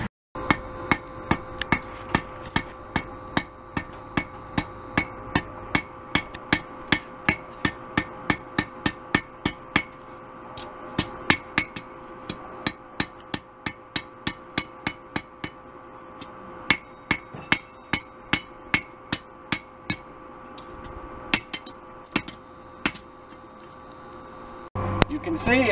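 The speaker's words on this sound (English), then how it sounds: "You can see I'm just sort of stretching this over the horn of the anvil." Blacksmith hammering chef's knife steel over the horn of an anvil, a long steady series of sharp ringing metallic strikes at a brisk even rhythm, close and loud, with occasional talk underneath.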